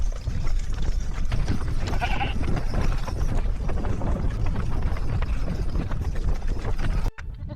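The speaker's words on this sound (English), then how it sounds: "the Persian wild goat, the pasang, watches over valleys that human eyes have barely ever seen" A Persian wild goat (pasang) bleats in a mountain valley against a dense, steady wash of background sound that carries on for about seven seconds before cutting off abruptly.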